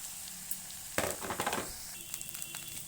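Flattened rice (chira) tipped into a pan of frying vegetables, a brief burst of sizzling and scraping that settles into a soft, steady hiss, close and fairly quiet, with no talking.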